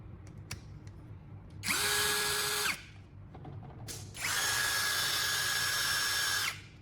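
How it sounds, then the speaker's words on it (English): A power drill spinning a bolt sharpening tool like a mini grinding wheel whirs up in two bursts, a short one and then a longer, steady high-pitched spin, each stopping abruptly. "Attach the tool to the drill chuck. It'll spin like a mini grinding wheel."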